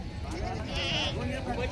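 A native breed goat at a livestock market bleats in a wavering, drawn-out cry, close and fairly loud, amid a busy crowd murmur and voices.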